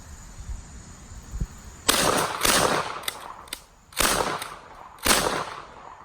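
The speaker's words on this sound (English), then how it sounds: "This does slam fire. You'll see it here in a second." Winchester Model 42 .410 take-down shotgun slam firing, several sharp, loud shots in quick irregular succession with brief ringing tails, heard alone at close range after a quiet lead-in.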